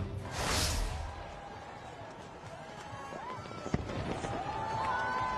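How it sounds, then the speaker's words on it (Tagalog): Fireworks in the colours of the French flag crackle and burst over a noisy outdoor crowd at an Olympic flame arrival ceremony in a French port city, with a sharp pop near the end and whistling streaks rising. "Sa fireworks na kakulay ng bandila ng France"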